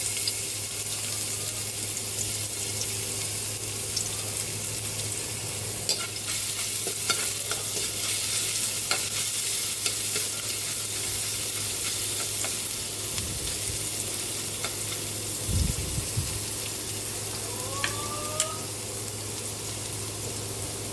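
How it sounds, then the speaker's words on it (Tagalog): Garlic sautéing for pork kare-kare gives a continuous close sizzle with spatula stirring and scraping over a steady low hum, plus a couple of brief louder clanks of utensils. "Magigisa na po tayo para sa ating pork kare-kare."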